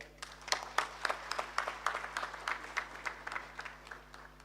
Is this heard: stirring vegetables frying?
no